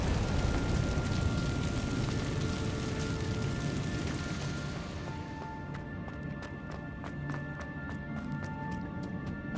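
Fire spell cast in the Hogwarts Legacy video game: a loud, dense roaring crackle of flames fills the first half, then fades into lighter, ringing magical chimes and soft sparkling tones.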